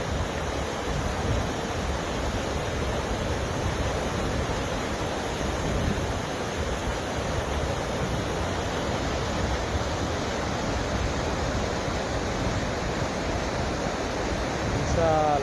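Clear water rushing over scattered stones at Rangpani in Sylhet, a steady, dense wash of flowing noise that holds evenly at close range for the whole stretch.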